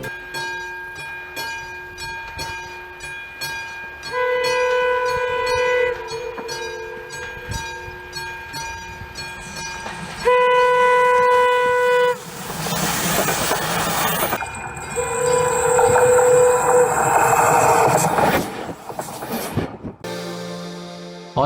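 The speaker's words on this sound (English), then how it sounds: "One special train Slovenska strela on Trutno Martinis route." Slovenska strela special train on the Trutno Martinis route passing close by, with sustained tonal horn or whistle blasts, rumbling wheels and bursts of broadband rail noise, loud and without talk.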